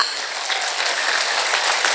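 A women's religious gathering applauds the event organizers during an Islamic lecture, a close, bright, continuous burst of many hands clapping.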